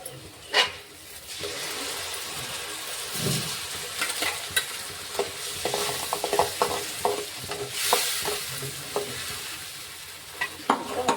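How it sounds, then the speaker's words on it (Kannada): Onion gravy fries in a pan while being stirred, giving a close, continuous sizzle broken by repeated scraping and clinking of a spoon against the pan, with no talking. "ಇವಾಗ ಇದೊಂದು ಸ್ವಲ್ಪ ಫ್ರೈ ಫ್ರೈ ಮಾಡೋಣ ತಿರುವಾಮ"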